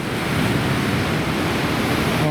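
Stormy sea waves crash on a beach at Simeiz during a hurricane-force wind, a dense continuous roar of surf and gusting air, loud and close throughout.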